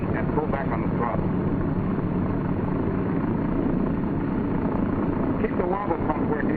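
A C-47 Skytrain's radial piston engine runs as a dense, steady, rumbling roar that fills the whole stretch at constant loudness, with a narrator talking over it.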